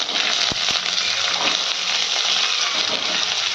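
Beans and potatoes dropped into a pan of hot oil with black cumin, mustard and dried chilli, giving a steady loud close sizzle with a couple of sharp knocks near the start.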